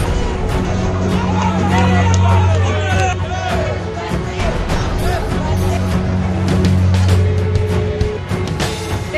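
A large crowd gathered outdoors in Banaras, a continuous hubbub of many voices with occasional shouts and passing traffic, loud and sustained throughout.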